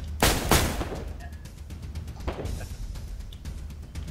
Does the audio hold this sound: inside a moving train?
no